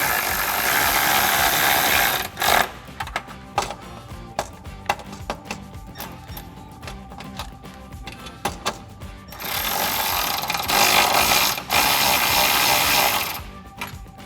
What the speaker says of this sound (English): we'll tighten those down with our 10mm once again